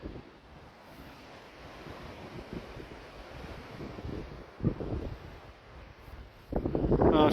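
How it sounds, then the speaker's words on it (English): Wind and surf on Pinklick Beach near Porth Colmon along the Wales coastal path, a steady rushing wash of waves with wind buffeting the microphone, swelling louder near the end. "This is Pinklick Beach."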